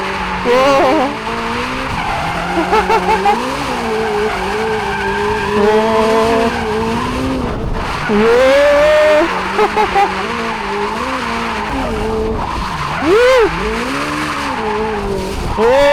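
Hyundai RN24 650-horsepower electric car drifting, loud sustained tire squeal with wavering pitch and repeated skids over a steady motor whine, with occasional speech over the noise.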